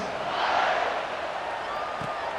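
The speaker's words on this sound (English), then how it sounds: "this crowd is buzzing after that last score" A stadium crowd in EA Sports College Football 26 keeps up a steady, loud roar after a score, a dense wash of massed voices with no single call standing out.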